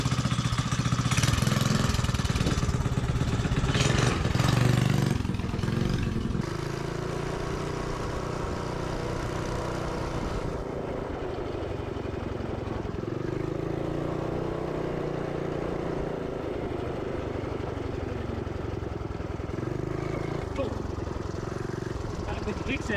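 A dirt bike's engine, fitted with a hot coil, runs right after a pull start. It is louder and rougher for the first few seconds, then settles into a steady running drone while someone talks over it.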